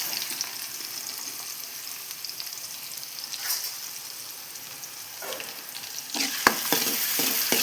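Onions sizzle gently in a pan at a soft, steady level, and a spoon stirs them near the end with a few sharp clicks and scrapes.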